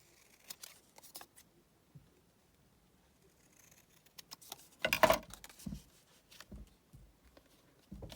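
Scissors snip paper for an envelope folio, giving a few quiet, close cuts in scattered short bursts. One snip is louder and longer than the rest. Light handling rustles fill the pauses.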